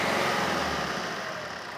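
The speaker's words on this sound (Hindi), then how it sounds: "अभी हम गाड़ी को थोड़ा रेस करके देख रहे हैं" A car engine revs up and settles back during a sensor probe test, a steady, loud, close mechanical drone that swells briefly and then eases slightly.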